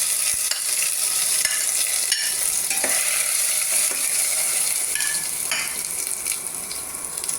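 Ground green mango, coconut and green chili paste cooks in a pan over a medium flame for a mango curry, giving a close, constant sizzling hiss with occasional soft stirring scrapes and no talk.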